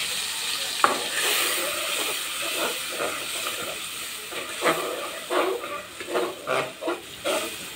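Onions and spices frying in hot oil, a steady sizzling hiss with soft stirring scrapes that rise in short bursts toward the end, close and moderately loud.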